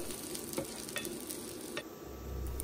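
Coconut pieces and mustard seeds sautéing in coconut oil for a green-bean stir-fry, a soft steady sizzle with occasional faint stirring ticks, close and quiet with no voices.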